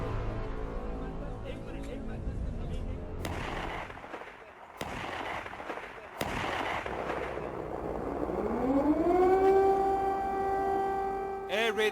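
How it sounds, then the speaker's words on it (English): Over sharp cracking booms and muffled voices, an air raid siren in Kyiv, Ukraine, wails, rising in pitch and holding a sustained, loud tone near the end. "Air raid sirens go off in Ukraine's capital Kiev"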